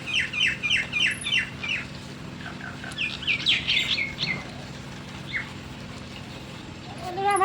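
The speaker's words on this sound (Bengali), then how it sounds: "আর পাখিগুলো যে আজকে কী পাইছে, এত মানে বাড়িতে ঝগড়া করতেছে" Birds squabble and chirp around a village house, bursts of sharp twittering calls coming in clusters at close range over steady background noise, with talk faintly present.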